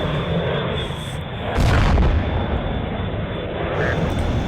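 MiG-21 fighter jet in a video game, a continuous loud roar of engine noise with a brief heavier blast or boom in the middle, swelling and then settling back to a steady rumble.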